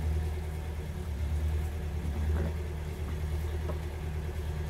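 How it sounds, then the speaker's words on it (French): A tractor engine runs steadily close by outdoors, a constant low idling rumble with no voices over it. "mon mari travaille avec le tracteur"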